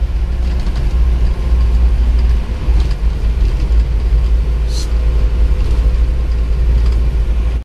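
Isuzu Panther car engine running steadily on a road test after an engine rebuild, a loud continuous low rumble with a brief faint higher tick midway and no talk over it.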